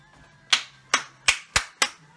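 Five sharp hand claps ring out close and loud at a brisk, slightly uneven pace, each one a crisp snap that decays quickly into quiet.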